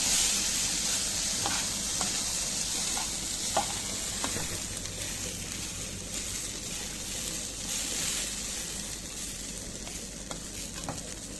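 Rice and toasted vermicelli stirred and sizzling in a pot, a steady bright frying hiss with occasional scraping clicks of the spoon, close and continuous.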